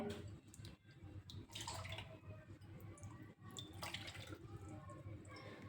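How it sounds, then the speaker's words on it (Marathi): Measured water, three bowls to one bowl of dal, is poured into the lentils, making a faint, close, continuous trickle and gurgle of filling liquid. "आता आपण डाळीलासुद्धा पाणी मोजून घालूया"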